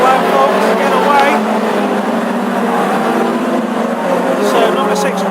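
Classic hot rod race cars roar down the back straight at Northampton, a dense continuous engine drone with passing surges, heard under a commentator's voice.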